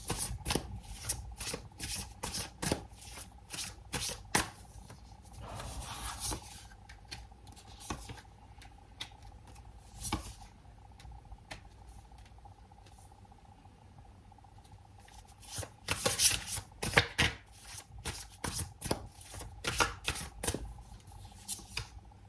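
Tarot cards shuffled again and again in a steady run of crisp, riffling bursts with short pauses between them, close and moderately loud, with no talking.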